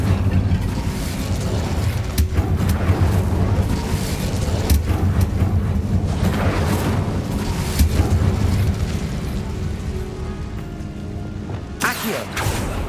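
A fire spell cast in Hogwarts Legacy, heard as a continuous roaring, rumbling burst of flame and magical effects with layered game noise, loud and sustained throughout.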